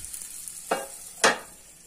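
Wheat ragi roti frying in sesame oil on a pan, a soft steady sizzle broken by two louder bursts of crackle as oil is added or the roti is flipped.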